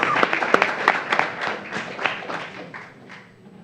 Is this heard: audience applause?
yes